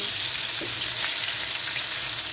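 Food browns in a hot frying pan with a dense, steady hiss of oil, loud and close, with faint crackles and no pauses.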